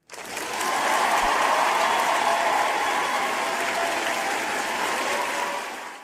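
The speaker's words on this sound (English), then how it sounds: "So round of applause for y'all." An audience gives a round of applause, the clapping rising quickly, holding loud and dense for several seconds, then tapering off abruptly.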